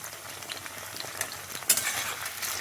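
Chicken pakoras fry in hot oil, giving a faint, steady sizzle broken by a few light clinks and taps of a utensil against the pan.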